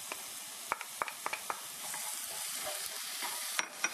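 Quinoa toasting in a pan while being stirred: soft, quiet sizzling underneath scattered sharp scrapes and clicks of the spoon, a few quick strokes close together, then a calmer stretch and two more scrapes near the end.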